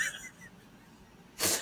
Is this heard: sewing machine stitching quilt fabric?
no